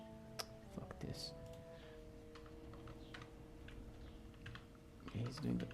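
Quick bursts of keystrokes on a computer keyboard, soft clicks clustered near the start and again at the end, faint against a low electronic hum.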